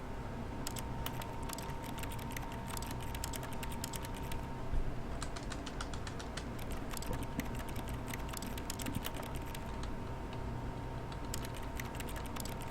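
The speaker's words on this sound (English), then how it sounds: "Why does it sound like I'm typing a keyboard on a piece of paper?" Quiet, rapid keyboard typing from The Stanley Parable video game, a continuous clatter of key presses at a steady pace with no talking.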